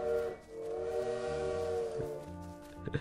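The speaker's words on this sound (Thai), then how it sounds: "เหมือนได้ยินเสียงรถไฟนะเราต้องรีบกลับรถไฟแล้ว" A steam train whistle sounds in the video game Little Witch in the Woods, a long sustained tonal blast with layered harmonics that dips briefly near the start and cuts off toward the end, standing alone with no talk.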